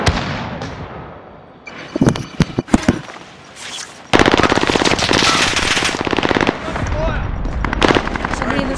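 Rapid bursts of automatic gunfire and scattered single shots crackle loudly through a video game firefight, with players talking over the shooting.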